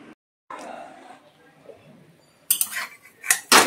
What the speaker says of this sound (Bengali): তেলটা ঝরিয়ে ঝরিয়ে ডিমটা তুলে নেব।